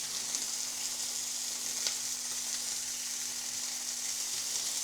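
Slices of Spam dusted with chip spice fry in a pan, giving a steady, close, even sizzle that runs throughout with a faint low hum beneath and a couple of small pops, and no one speaks.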